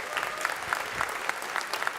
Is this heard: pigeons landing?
no